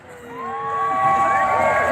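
Crowd at a freedom rally march in Adelaide, South Australia, cheering as car horns beep, with long sustained horn tones rising and overlapping into a loud, busy street din.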